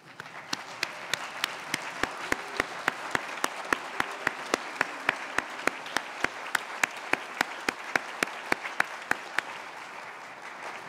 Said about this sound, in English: stand up so we can see where you are and give you a big round of applause